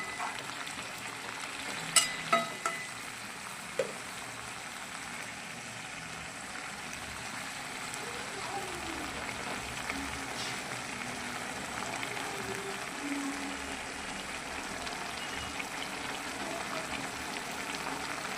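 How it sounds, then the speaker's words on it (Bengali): Flat beans and potatoes sauté in a pan, giving a steady, soft sizzle and bubbling that runs evenly throughout, with a few faint clinks near the start and no talking. "কষতে কষাতে সিমটা একদম গলে গেছে"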